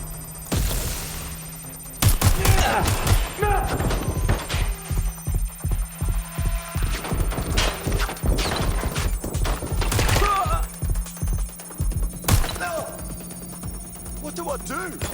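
Bursts of rapid automatic gunfire crackle in a repeating, stuttering rhythm during a Watch Dogs: Legion firefight, with voices talking between and over the shots.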